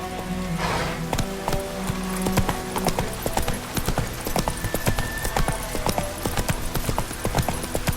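Galloping horse in The Witcher 3, a steady run of hoof clip-clops going on throughout, loud and close with game ambience around it.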